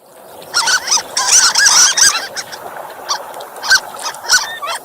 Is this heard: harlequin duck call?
yes